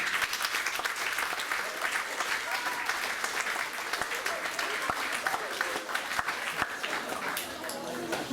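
An audience at a student-led climate school conference premiere claps steadily for teachers and students. The dense, even applause runs throughout with a few sharper individual claps standing out.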